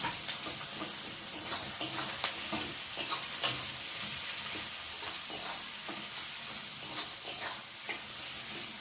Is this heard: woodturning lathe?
no